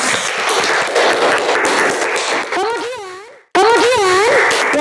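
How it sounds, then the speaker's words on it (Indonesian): Children in a primary classroom clap their hands in a brief burst that fades out, followed by children's voices rising in high, wavering tones after a short silence. "Yuk tepuk tangan untuk semuanya."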